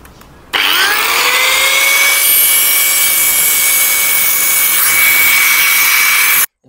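A power cutter slices through part of a Rajdoot motorcycle silencer, a loud close metallic whine with a steady ringing tone that holds for about six seconds and then cuts off abruptly.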